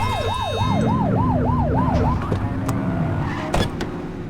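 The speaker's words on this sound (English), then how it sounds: "Get behind them and flip the siren and make them pull over." A police car siren in The Precinct video game wails in a rapid, regular yelp over a low engine rumble, then drops into a steadier tone with a few sharp clicks and knocks near the end.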